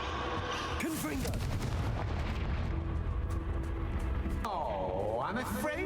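A Confringo fire-blast spell going off in the game Hogwarts Legacy: a dense booming burst amid continuous loud battle noise, with other spell effects whooshing and sweeping across the mix.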